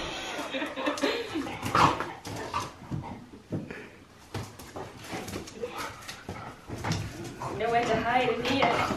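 A dog whimpers and lets out a few soft barks and yelps close by, mixed with people talking, shuffling and door-like clatter in a home.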